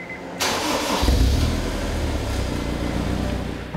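A Honda S2000 engine with 80,000 miles cranks briefly, then catches and settles into a steady, throaty idle up close, with no one speaking.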